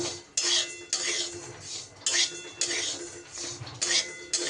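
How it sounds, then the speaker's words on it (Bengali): Lentils and broken wheat are dry-roasted together in a wok, and a spoon scrapes and clinks against the metal in repeated bursts of stirring, close and fairly quiet. "গ্যাসে কড়াই বসিয়ে সবার প্রথমে আমি ডালটা আর ডালিয়াটা একসাথে একটু শুকনো খোলায় নাড়াচাড়া করে নেব"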